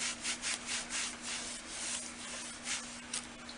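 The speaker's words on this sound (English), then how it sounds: "I've burnished it down to make some good contact with the clay." A tool is rubbed firmly over a stencil laid on polymer clay, giving close, steady scraping strokes in an uneven rhythm, with no voices.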